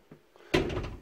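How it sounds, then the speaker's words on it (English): A door in an abandoned house is pushed shut, a single solid thud that rings out briefly after a couple of faint knocks, with no talking. "Could you shut that door behind you, please, Nish?"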